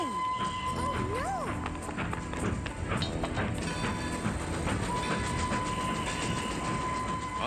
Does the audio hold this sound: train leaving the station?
yes